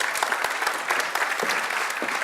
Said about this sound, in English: I want everyone to have a nice round of applause for both Florence and Laura.